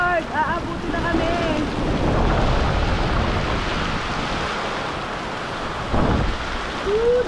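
Heavy rain and strong wind from Typhoon Kristine roar loudly and continuously, with gusts buffeting the microphone. Faint voices break in over the storm now and then.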